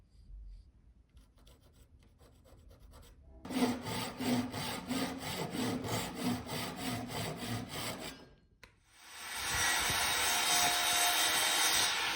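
A hand saw cuts through a piece of wooden trim with a steady back-and-forth rasping rhythm of rapid strokes, close and fairly loud, after a quiet start, followed by a brief pause and then a broad hiss.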